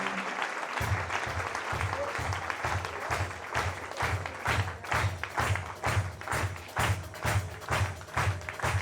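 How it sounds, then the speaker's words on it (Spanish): A church congregation claps in strong, even rhythm, the rapid applause soon settling into a regular beat of loud unison claps that continues throughout. "démosle un aplauso fuerte al Señor"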